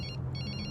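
A telephone bell rings in short repeated bursts, a bright trilling pulse over a low background hum, with no talk.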